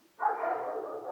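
Dogs barking, a single sustained bark or howl-like yelp starting abruptly and holding steady, fairly close and alone.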